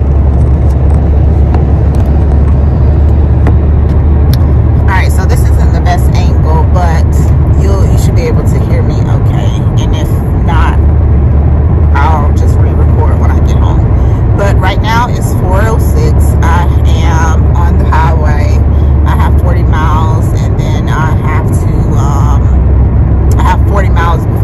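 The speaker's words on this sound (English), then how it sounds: "I have an hour drive now to Burbank, so I just want to get on the road" A car drives on the road on an hour-long trip to Burbank, heard from inside as a loud, continuous low road rumble and engine drone beneath a person talking throughout.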